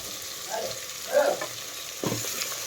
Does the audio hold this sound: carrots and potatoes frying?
yes